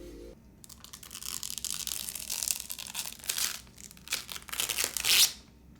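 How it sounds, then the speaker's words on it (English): Protective film is peeled off a golf putter, producing a close, continuous crinkling and tearing rustle with uneven swells and a sharper rip near the end, with no talking. "let me peel this thing off now"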